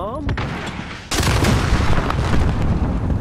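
Rockets fire in a video game: a sudden loud, close blast after a brief voice, then a dense, roaring barrage of booms and rumbling that carries on steadily to the end.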